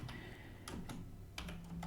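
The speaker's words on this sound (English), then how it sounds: "now what we are doing, we are typing window counter" Code being typed on a computer keyboard: quick bursts of close, crisp key clicks in an uneven rhythm, with a few sharper keystrokes standing out, heard alone without talk.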